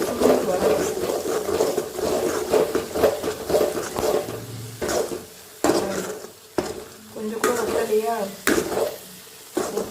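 Garlic pickle bubbles and fries in oil while being stirred, with a steady close sizzle broken by rhythmic scraping strokes of the spoon against the pan.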